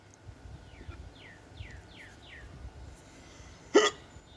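A man hiccuping after eating an extremely spicy sausage: several soft, evenly spaced hiccups close to the mic, then a sharper, louder one near the end, over quiet background with faint chirping.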